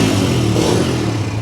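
A 2024 Bajaj Freedom 125 motorcycle running on CNG, its engine humming steadily and loudly at close range, a brief burst of idling with a light clatter.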